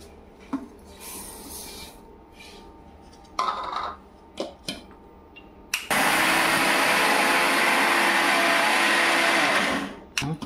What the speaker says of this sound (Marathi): आता मी साखर बारीक करते।